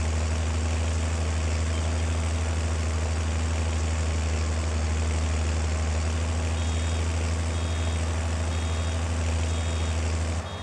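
A small farm tractor engine idles steadily in one spot, a loud, constant low hum with a deep throbbing tone and no break across the whole stretch.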